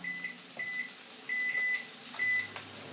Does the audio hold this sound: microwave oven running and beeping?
yes